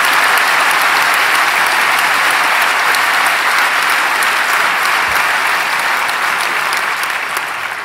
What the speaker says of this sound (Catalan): un fort aplaudiment pels diputats i diputades d'aquesta anterior legislatura